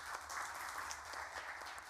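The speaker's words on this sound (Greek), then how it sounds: "Ένα χειροκρότημα." Applause from a seated conference audience after a talk on a national microchip strategy, a dense, even wash of clapping held steadily throughout, no voices over it.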